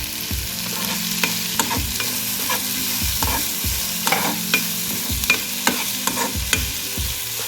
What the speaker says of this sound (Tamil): இப்போ நான் தட்டி வச்சுருக்க பூண்டு ஆட் பண்ணிக்கிறதோட